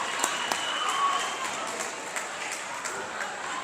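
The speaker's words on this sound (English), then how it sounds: "I hear you clapping." Crowd clapping in the stands at a girls' high school basketball game between East St Louis Flyerettes and Belleville East Lady Lancers, a steady spread of many claps in a large gym with some voices mixed in.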